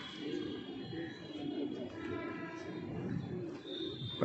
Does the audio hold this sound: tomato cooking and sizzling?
no